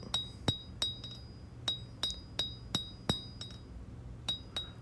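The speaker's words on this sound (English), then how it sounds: "Now I'll start stretching that handle out, working it out, working that distal taper into it." Hammer blows strike a knife handle on an anvil while stretching it into a distal taper: about a dozen sharp, ringing metallic clinks at an uneven, steady pace, close and fairly loud.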